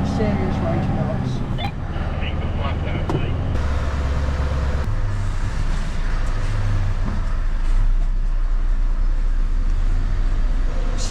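A truck hauling a brand new wide-load combine, about 51 tons, climbs a hill with a steady, loud engine drone and road rumble throughout, and someone talks over it.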